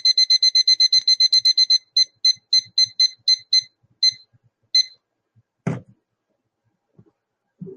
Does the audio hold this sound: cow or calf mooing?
no